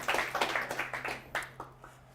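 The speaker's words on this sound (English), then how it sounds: "Quick hand of applause for you guys." A small group at a tech meetup gives a brief round of applause: a couple of seconds of sparse, fairly quiet hand claps that taper off quickly.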